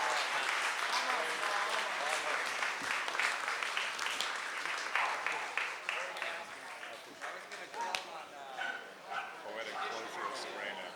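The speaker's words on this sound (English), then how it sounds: "Round of applause." An audience at a live political panel discussion breaks into sustained applause with cheering voices, a dense crackle of many hands that holds for about ten seconds, with talking mixed in.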